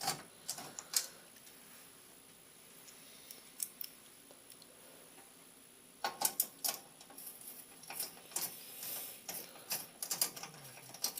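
A screwdriver turns screws into a computer case, giving close, quiet ratcheting clicks and small metallic ticks in uneven runs, busier toward the end, with no one talking.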